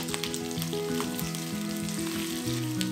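Sliced pork belly sizzles and fries steadily in a hot wok with sugar as it is stirred, a close, continuous crackle with faint utensil movement and no talking.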